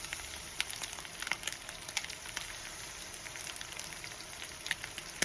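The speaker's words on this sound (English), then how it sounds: "So I'm dropping them 1 spoon at a time." Spoonfuls of saltfish fritter batter fry in a pot of oil, giving a soft, steady sizzle with scattered small crackles and pops, fairly quiet and close, with no talking.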